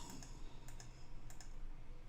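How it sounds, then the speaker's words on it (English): Someone types on a computer keyboard in quick, faint bursts of key clicks, close by and quiet, with no talk. "I'm typing it on the screen."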